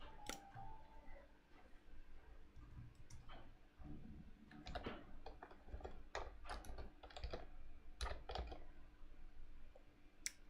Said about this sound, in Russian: Сейчас я вот тут напишу на этой клавиатуре.